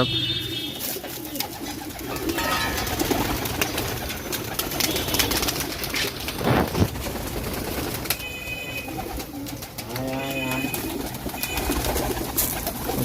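Pigeons cooing at a pigeon farm, several birds giving repeated low throaty coos near and far, with rustling and occasional wing sounds mixed in.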